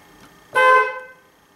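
A single short BMW 3 Series E46 car horn honk sounds close by, a brief bright blare lasting under half a second in otherwise quiet surroundings, during troubleshooting of a horn fault.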